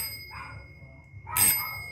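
Pressing the push button sets off an electric 220 V doorbell, which gives a brief faint ding and then a louder, bright metallic ring nearby.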